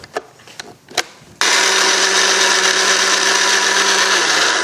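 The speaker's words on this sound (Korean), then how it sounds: "이제 믹서기에다가 할게요." An electric blender whirs loudly and steadily as it purees burdock with cooked rice and water, starting abruptly after a few handling clicks and knocks and running at a constant high-pitched drone.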